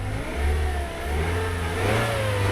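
A used car engine runs after a cold start, a steady mid-pitched hum with slight revving swells, close and continuous with no talking.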